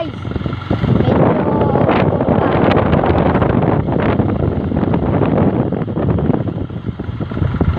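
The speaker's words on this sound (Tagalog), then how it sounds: "ang lakas man ng hangin dito" Strong wind buffets the microphone in a steady, loud roar throughout, with broadband rumble and a few brief gusts rising above it.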